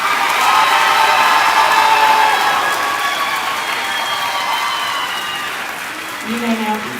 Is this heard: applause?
yes